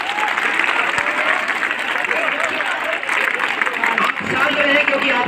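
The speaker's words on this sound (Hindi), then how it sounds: "अपने लिए आप लोग जोरदार ताली बजाइए" Students at an inter college clap loudly together, dense applause filling the room for several seconds with a brief dip near the end before it swells again, with some crowd murmur underneath.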